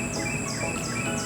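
Birds in a garden chirping continuously: steady, bright, repeated tweets over a constant background of insect-like buzzing, with no speech.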